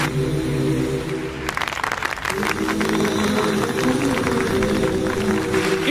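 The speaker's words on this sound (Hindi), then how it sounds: "तालियां!" Studio audience applause at an Indian TV quiz show, a burst of clapping rising suddenly partway through over steady background music, dense and sustained to the end.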